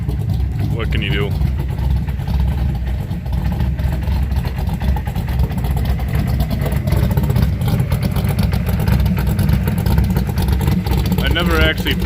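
A loud, steady low rumble of a truck engine heard from inside the cab, droning continuously as the vehicle drives along.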